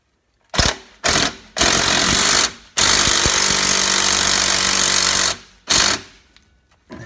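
Power tool with an 18mm socket tightening a rear suspension bolt on a BMW F82/F83 M4 or F80 M3 during a KW Clubsport coilover install, loud rattling bursts separated by short pauses, one long sustained run in the middle.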